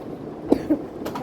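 Two short coughs, a sharp one then a softer one, sound close by over a low, steady room hum.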